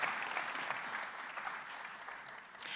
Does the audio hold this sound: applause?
yes